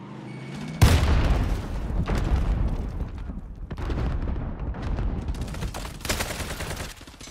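Rapid automatic gunfire and bursts of shots in Call of Duty Warzone, a loud sustained barrage with booming impacts that starts abruptly and rolls on without pause.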